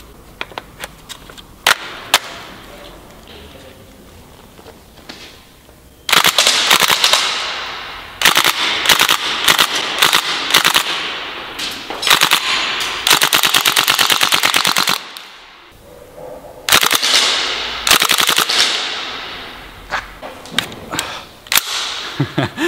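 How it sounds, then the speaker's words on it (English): A gas blowback airsoft gun loaded with a drum magazine fires in loud, sharp bursts of rapid snapping shots. Single pops come first, then several long strings of fire are broken by brief pauses, close and dry with no talking. "let's pop in the drum mag and give it a couple of shots"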